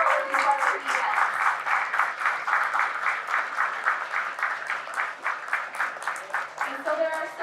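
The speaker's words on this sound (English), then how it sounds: "can we just give a special round of applause to Karen Sorrells from the Midwest Regional" Audience applause at a school signing day ceremony in Ohio, a steady, moderately close patter of many hands clapping that keeps going without pause.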